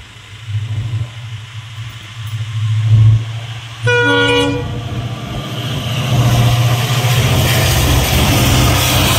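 A train horn blasts briefly over a low engine hum, then the rumble and rushing noise of a passing train swell and stay loud.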